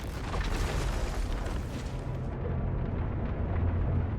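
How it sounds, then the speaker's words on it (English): An explosion rocks a hotel in the video game 007 First Light, a heavy, rumbling low blast that rolls on as a dense roar and then fades into a dull, muffled rumble. "Bond manages to disarm the bomb, but an explosion still rocks the hotel"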